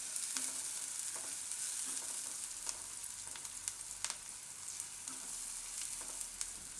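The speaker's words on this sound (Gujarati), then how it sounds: "ડુંગળી આપણે થોડીક વાર આ રીતે તેલમાં ફેરવી લેવાની, થોડોક કલર ચેન્જ થાય એવી" Onion frying in oil for ghau ni ghughri, a soft, fairly quiet steady sizzle with occasional scraping stirs and light clicks of a spoon in the pan, no speech.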